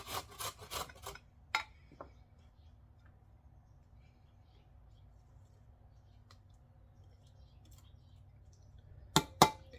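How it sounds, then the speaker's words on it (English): Carrots are rubbed over the large holes of a box grater in quick bursts of rasping strokes at the start and again at the very end, with a near-silent stretch between them. "we're going to do the big grate on this box grater"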